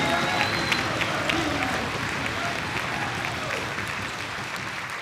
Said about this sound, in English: I would like to give a round of applause for all of those kids who are still dancing.